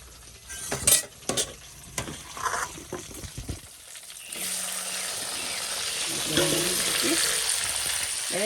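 Vegetables hit hot oil in a kadai and fry with a steady loud sizzle, after a few sharp clanks of utensils and handling noises, with spoon scrapes from stirring.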